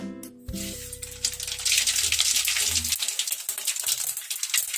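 Mustard seeds dropped into hot oil for a ginger pickle crackle and splutter loudly, a dense steady sizzle that follows a brief low rumble near the start.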